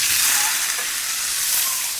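Mustard seeds, fenugreek, onion, ginger and curry leaves fry in hot oil, giving a close, continuous bright sizzle that stays even throughout.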